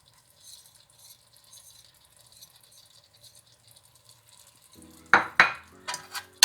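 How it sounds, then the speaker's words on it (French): Lentils with sausages in a cooking pot, near-quiet at first with only faint background, then a burst of loud close scraping and clattering strokes of a spoon stirring against the pot near the end. "Je mélange."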